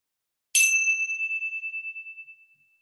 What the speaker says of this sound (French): après la sonnerie de la cymbale, vous pourrez sortir tranquillement de la relaxation